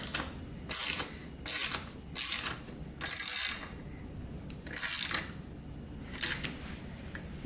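A ratchet wrench tightens the bolts of a racing seat during installation in a car, giving repeated bursts of clicking separated by short pauses.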